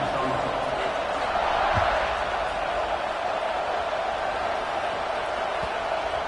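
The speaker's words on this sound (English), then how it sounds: "this crowd now ready to get behind them" A football stadium crowd roars steadily before kickoff, a dense, sustained wash of cheering and noise from thousands of fans with no clear individual voices.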